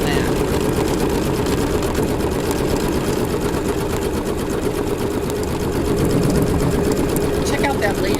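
A Bernina B790 Pro embroidery machine stitching a design, a steady rapid mechanical whir and needle chatter running loud and unbroken throughout, with a voice talking over it.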